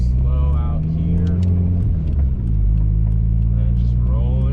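Car engine on a drive with a newly fitted ECU, revving and pulling in a steady rising drone with a brief dip midway, close and loud inside the cabin, with talk over it.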